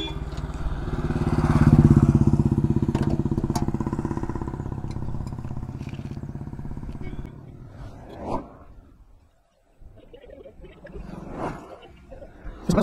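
A motorcycle engine, just refuelled with 150 ml of petrol, runs with a steady low putter that swells and then settles into idle, with a few throttle blips later on. Someone speaks over it.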